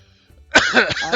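A single short burst of coughing and throat clearing, close and fairly loud, after a moment of near silence.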